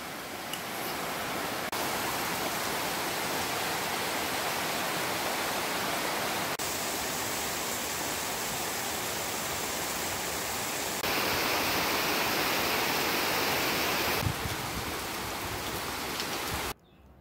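Heavy tropical downpour pounding down in Tahiti, a dense, steady roar of rain on surfaces that swells louder in the later stretch and stops abruptly at the end.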